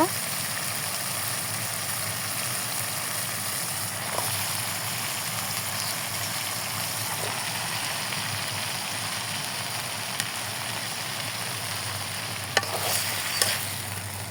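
Fresh vegetables fry and get stirred in a pan over salt and spices, cooking for a dish of rohu fish head with vegetable stalks and Malabar spinach; a steady sizzle runs throughout with occasional scraping clinks and a low hum.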